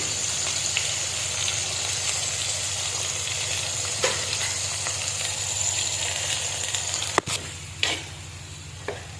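Spice powders fry in a pan with tomato for a mackerel curry with kudampuli, giving a dense steady sizzle. A few sharp clinks and scrapes of a stirring spoon break in near the end.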